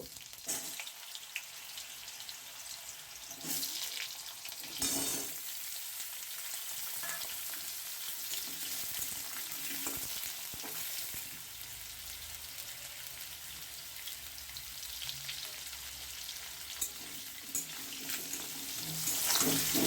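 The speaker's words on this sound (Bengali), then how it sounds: "এই পেঁপেগুলোকে আমি এতে হালকা করে একটু ভেজে নেব" Raw papaya pieces frying in white oil in a pan, a soft, steady sizzle heard close with occasional stirring clatters and scrapes, continuous throughout and growing a little louder toward the end.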